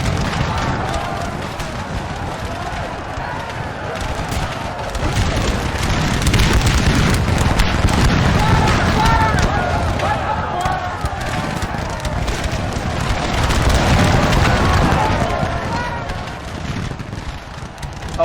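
Musket volleys and artillery fire in a massive Napoleon Total War battle, a dense continuous roar of crackling gunfire and low booms rolling on throughout, under a commentator's steady talk.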